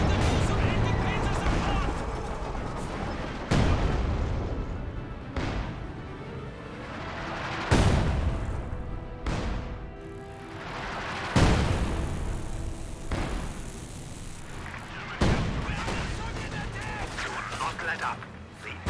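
An artillery barrage in Company of Heroes 2, with heavy explosions landing every few seconds and rumbling decays in between, under steady talk from a commentator.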